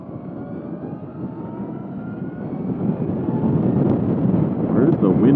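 Steady wind roar buffets the rider on a 2022 Zero S/RS electric motorcycle at highway speed, a broad low rush that builds slightly louder toward the end with no engine note.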